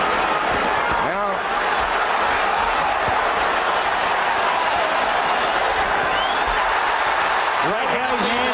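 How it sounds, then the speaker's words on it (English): A boxing arena crowd cheers as Chavez lands punches against De La Hoya, a constant loud roar with a commentator talking over it. "The Chavez element of the crowd loving it when their man connects."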